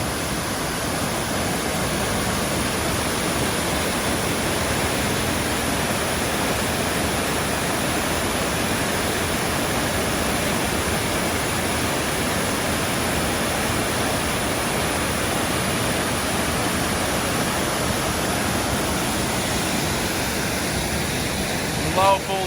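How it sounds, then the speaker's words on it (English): Small waterfall pouring into a rock bowl on a Huon Valley walk, a steady, dense rushing wash of water that stays close and constant throughout with no break. "Beautiful little waterfall in like a nice bowl, flowing really well."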